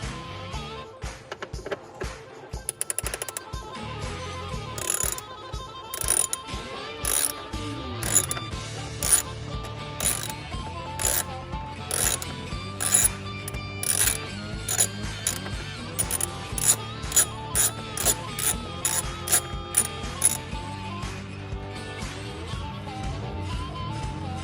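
Engine cover bolt being unscrewed by hand on a C8 Chevrolet Corvette, producing a steady run of small ratcheting, clicking mechanical noises close to the mic with no talking.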